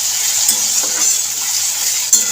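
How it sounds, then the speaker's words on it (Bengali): Onion and tomato fry in hot oil while being stirred, giving a steady, close hiss with a few soft scraping strokes of the spoon against the pan. "তেলের মধ্যে কষিয়ে নিচ্ছি"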